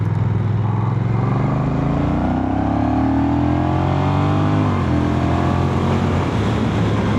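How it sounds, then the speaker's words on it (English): A 2025 Honda CMX1100 DCT motorcycle with a 1100 engine accelerates up a lane. A loud, close engine note climbs through the revs in a steady rising sweep, with no talking. "it's got that good old 1100 engine. It does pick its skirt up when you want to give it a bit of thrash"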